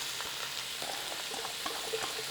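Onions frying in a pan over a gas flame, a steady low sizzle and crackle that runs on its own without any voices.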